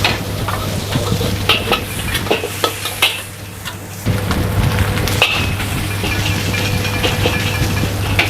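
Garlic and chicken sizzle in a hot wok while stir-frying Singapore-style fried rice, with a steady loud frying hiss, repeated clanks of a metal spatula against the pan, and a brief lull midway.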